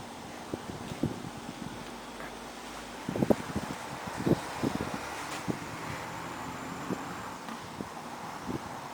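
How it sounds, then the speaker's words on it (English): Outdoor wind buffets a microphone beside a 2012 STIHL FS-250R trimmer, making irregular low rumbling thumps and gusts over a quiet background. "it really sucks that the wind is blowing, so it might destroy the video"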